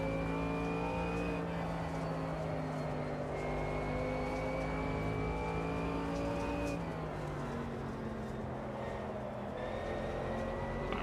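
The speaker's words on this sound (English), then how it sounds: "Most of the GT3s are coming into pit now." GT3 race car engines in the Automobilista 2 racing game at Watkins Glen, a steady droning whine rising and shifting pitch as gears change, continuous and fairly quiet with no talk.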